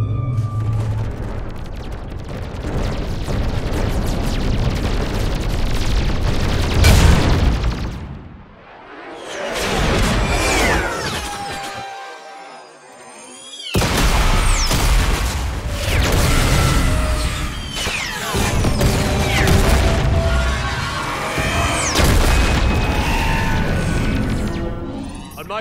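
Weapons fire and explosions roar through a Mass Effect video game battle against Reaper forces, with dense loud rumbling broken by a brief near-silent gap before the barrage resumes.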